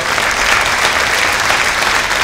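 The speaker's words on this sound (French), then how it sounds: "Alors à présent, on peut les applaudir toutes et tous" An audience at a mayor's 2024 New Year wishes ceremony applauds, a dense, loud, even wash of clapping filling the hall throughout.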